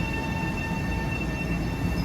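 A Long Island Rail Road train rolls past on triple track near Carle Place and Mineola, a steady loud rumble of wheels and cars with a faint high tone, heard alone without talk.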